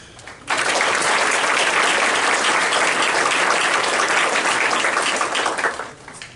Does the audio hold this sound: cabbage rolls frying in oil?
no